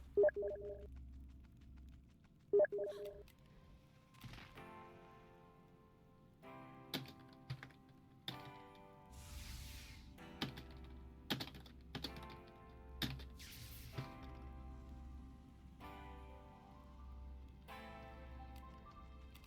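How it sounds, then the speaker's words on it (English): Someone types on a computer keyboard in irregular bursts of sharp clicks and clacks, with a couple of louder thumps near the start and a quiet room hum underneath. "I was typing"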